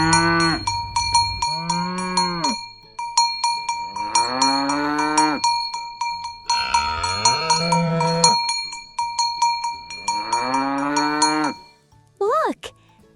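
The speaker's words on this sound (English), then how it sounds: "Listen to the cow." A cow on a farm moos several times in long, loud, drawn-out calls with short pauses between them, close by, while a bell rings steadily in the background.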